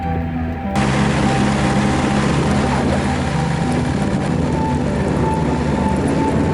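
Vehicle engine droning loud and steady while climbing a snowy slope, the wheels spinning, a constant close roar starting abruptly near the beginning, with no talk.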